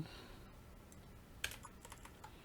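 A computer keyboard is tapped while deleting code in a CSS programming lesson: a handful of soft, scattered keystroke clicks, faint and close, with no talking.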